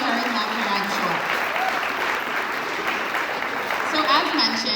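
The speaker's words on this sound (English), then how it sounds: "So let's give her a big round of applause" Steady audience applause at a talk, warm and sustained clapping from a room of listeners, with faint voices and a few tonal sounds audible underneath.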